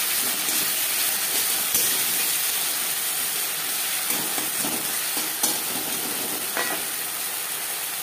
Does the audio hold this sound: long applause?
no